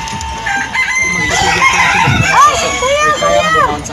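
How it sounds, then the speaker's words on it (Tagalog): Big fat chicken on a farm in Tagaytay, clucking and crowing loudly and close by, its calls rising and falling over steady background farm noise, with people talking nearby. "Big fat chicken."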